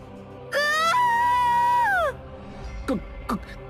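A woman lets out one long, loud, high scream lasting over a second, followed by a couple of short gasping cries.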